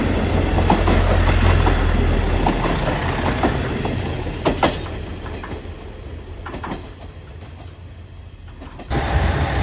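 A JR Shikoku limited express Tsurugi painted as an Anpanman train passes through Kojima Station in Tokushima, rumbling loudly with rail clatter that fades slightly before a fresh surge at the end.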